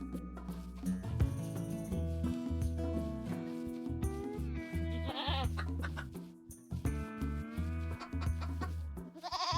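Goat bleats from the colony simulation game RimWorld, wavering calls heard among steady in-game music and effects, fairly loud throughout with no talking.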